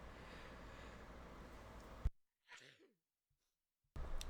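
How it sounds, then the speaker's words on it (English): A single person sneezing: one sharp burst cutting through a noisy room tone, followed by a brief breathy exhale in near silence before the background returns. "had to sneeze again"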